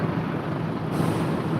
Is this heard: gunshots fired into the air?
no